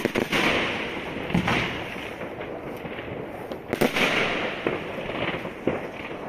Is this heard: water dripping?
no